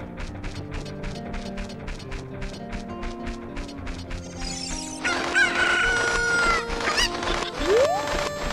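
A chicken in the video game The Legend of Zelda: Ocarina of Time, rhythmic game music first, then loud crowing and clucking fowl calls with a mechanical clatter in the second half.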